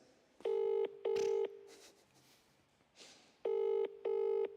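A telephone call ringing out with a double-burst ring pattern, two pairs of electronic rings separated by a pause of quiet room noise, clear and close.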